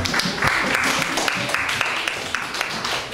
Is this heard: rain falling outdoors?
no